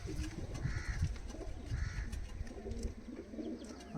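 Pigeons coo softly in a loft, with two distinct rolling coos among low, murmuring bird sounds and light background rustle, fairly quiet and continuous.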